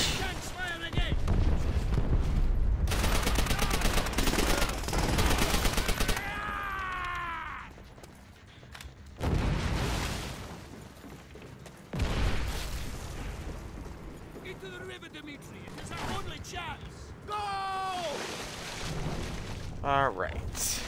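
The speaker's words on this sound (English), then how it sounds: "Tanks fire again." Heavy tank cannon blasts from Call of Duty: World at War ring out in loud, booming bursts that recur across the stretch, mixed with battlefield noise while a voice talks between them.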